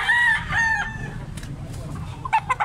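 A white-legged native rooster, four years old and large, crows loudly up close, then gives a few short clucks amid outdoor background noise.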